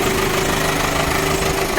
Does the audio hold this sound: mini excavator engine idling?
yes